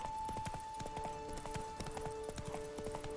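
Horse hooves clop in a quick galloping rhythm in The Witcher 3, steady and moderately close under a faint game score tone, with no talking.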